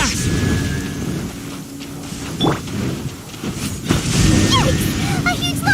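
Thunder and electro energy in the video game Genshin Impact, rumbling storm-like noise with crackling bursts and swooping effects under a voice speaking throughout, loud and dense.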